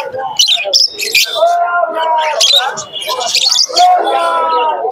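Pigeons and other birds call at a bird market in Santipur, with loud close chirps and whistles, while a voice speaks throughout.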